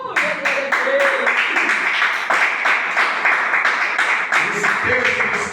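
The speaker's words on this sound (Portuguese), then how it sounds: "Pode se assentar e bater palmas para Jesus." Church congregation clapping their hands in worship, a steady rhythmic clapping that runs throughout with voices talking and calling out over it.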